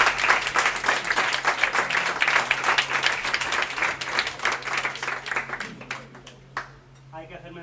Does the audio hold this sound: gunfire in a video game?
no